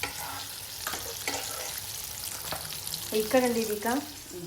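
Food frying in a pan of hot oil in a home kitchen, likely fish spread with masala, giving a steady sizzle with a brighter crackling burst near the end.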